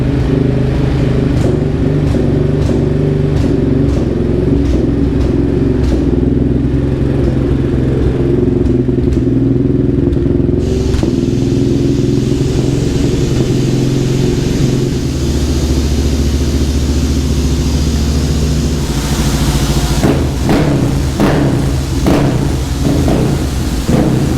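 A Yamaha Raptor 700 ATV with a Vortex tune idles on a dyno, a loud, continuous, lumpy thumping engine note with rattling clatter running throughout, close up.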